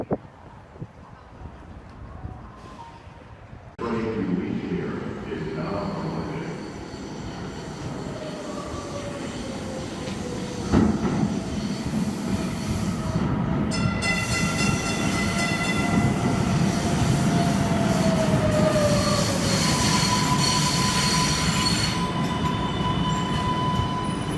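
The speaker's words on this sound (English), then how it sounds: "Symphony T-stop off the Green Line, on the E-train off the Green Line" A Boston Green Line E-train subway rumbles into Symphony station, growing louder with screeching wheels and rising whine as it slows, loud and close throughout.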